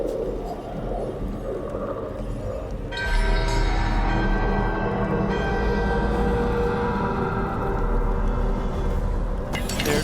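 A magical bell stirred by a ritual in Dragon Age The Veilguard swells into a loud sustained ringing drone with a rumbling low undertone, building after a quieter opening and holding steady to the end.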